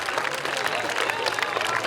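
Crowd clapping and applauding at an outdoor carnival parade in Središče ob Dravi, dense continuous claps at moderate distance for the whole stretch, with some voices mixed in.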